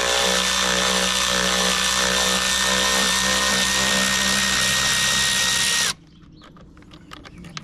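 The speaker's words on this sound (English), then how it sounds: "You're going to take out these 4 bolts." Bolts on a BMW GS 1250 motorcycle seat being removed with a power driver using a T40 bit: a loud steady whine for about six seconds, then it cuts off abruptly, leaving faint clicks and handling noises.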